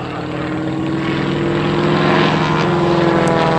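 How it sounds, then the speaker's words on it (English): Stearman biplane doing aerobatics high over the sun, its radial engine and propeller a loud, steady droning roar that swells slightly as it passes, with no voices. "This is the Lumshevak by John Mohr, right over the top of the sun"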